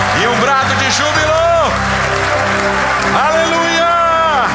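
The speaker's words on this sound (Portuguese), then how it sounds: "dá um aplauso ao Senhor e um brado de júbilo" A church congregation at a healing and deliverance service claps and cheers loudly and continuously, with shouts and rising whoops rolling over the steady applause.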